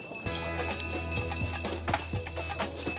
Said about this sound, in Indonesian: ini lori yang di tengah-tengah perkebunan yang sudah dibawa ke jalan utama dan ditarik menggunakan sapi